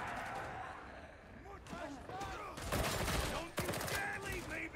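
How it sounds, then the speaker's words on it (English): Rapid bursts of machine-gun fire from an enemy gunner in the video game Warhammer 40K Darktide, loud, close sustained volleys growing heavier toward the end, with voices talking over the shooting. "Oh, that's a machine gunner."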